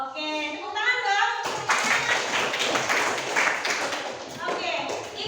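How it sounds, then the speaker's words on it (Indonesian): Students in a classroom clap together in a sustained burst of applause lasting several seconds, preceded by a teacher's voice speaking. "tepuk tangan dong."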